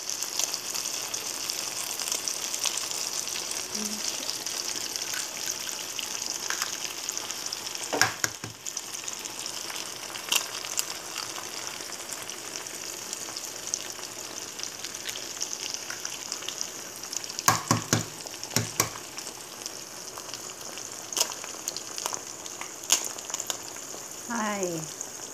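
Egg frying in a pan with cooked tomato and onion, a steady soft sizzle throughout with occasional sharp utensil clicks and scrapes, fairly quiet and without speech.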